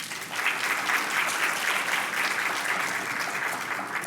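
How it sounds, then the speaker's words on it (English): An audience at a health and wellness luncheon applauds steadily, a dense, even wash of clapping from many hands that holds at one level throughout. "a round of applause"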